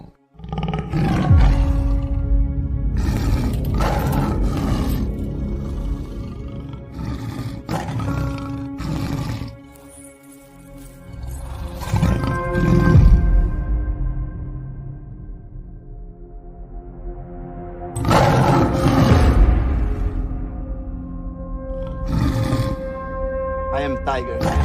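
Tiger roars in several deep, drawn-out bursts with rumbling growls between them, loud and close, spread across the clip with a brief lull in the middle.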